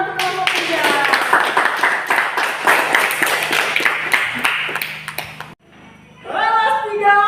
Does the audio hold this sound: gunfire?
no